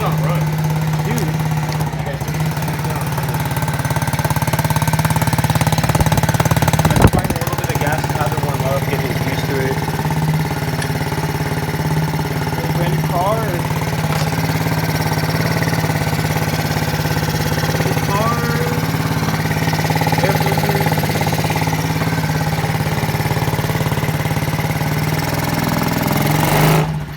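A small Chinese mini ATV engine idles after a carburetor swap, a steady low putter with a constant hum, heard close and continuous while people talk over it.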